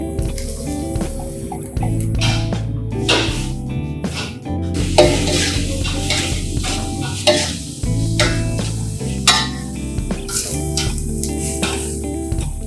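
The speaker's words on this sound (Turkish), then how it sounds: "Soğanı ayrı kavuruyorum." A large batch of onions sautés in a pan for Turkish stuffed meatballs, a close, steady sizzle with repeated scraping and stirring strokes and occasional clanks of the utensil against the pan throughout.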